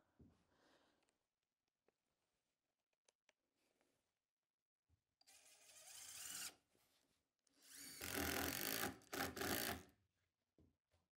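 A Festool cordless impact driver drives screws into OSB panels, two loud whirring bursts of a few seconds each, separated by near silence and small clicks and handling noises.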